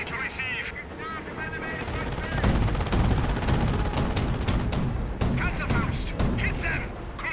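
Squads exchanging gunfire in Company of Heroes, dense machine-gun bursts and rifle shots rattling continuously, louder in the middle stretch, with a commentator's voice talking over the fight.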